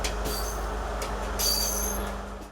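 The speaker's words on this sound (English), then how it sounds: "The Sitawaka Odyssey train made its maiden trip today." The Sitawaka Odyssey tourist train runs on the Kelani Valley route in Sri Lanka, giving a steady rumble of rolling wagons that swells briefly with a squeal of the wheels before easing off. No one speaks.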